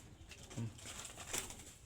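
A soft pigeon coo rises briefly mid-clip over faint background noise, with a light flutter of movement nearby.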